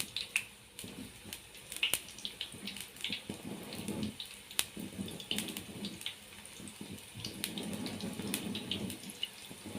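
Qatayef pancakes fry in oil with a light, crackly sizzle, and scattered sharp pops and small knocks stand out over a quiet bed of sound.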